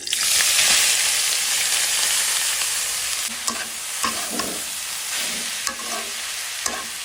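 Grated coconut sizzles in hot ghee in a pan, a loud steady frying hiss broken by repeated scraping strokes of a spoon stirring.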